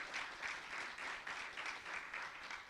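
Church congregation applauding steadily for a few seconds, a dense, continuous wash of many hands clapping with no voices over it.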